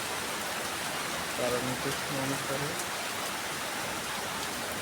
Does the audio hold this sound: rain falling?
yes